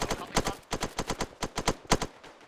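Gunfire in the military video game ARMA 3: about a dozen sharp, punchy shots crack out in quick uneven bursts, each close and distinct with brief gaps between.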